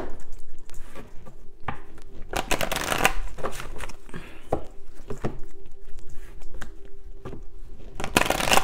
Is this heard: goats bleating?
no